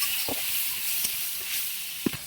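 Stinging catfish fries with green chilies in a pan, producing a steady soft hiss of oil with a few scattered knocks from stirring.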